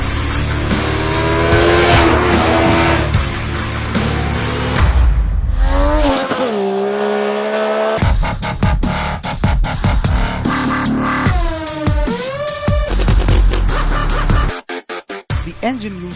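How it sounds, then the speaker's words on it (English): A Yamaha YZF-R3 sport motorcycle engine, loud and close, climbs and falls through the revs with repeated gear changes as the bike accelerates hard, breaking off abruptly near the end. "this is a seriously quick motorcycle which can do 100 km per hour in under 6 seconds"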